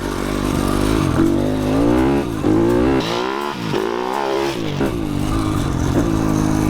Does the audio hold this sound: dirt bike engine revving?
yes